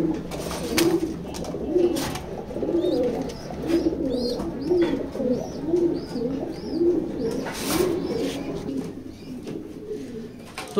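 A pair of grizzle pigeons coos in a steady, repeating rhythm of soft, throaty calls, close and clear, with faint bird chirps and light background noise around them.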